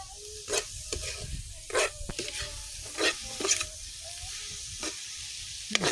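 Seafood adobo sizzles and hisses in a pan up close, with repeated sharp clinks and scrapes of a utensil stirring the mix.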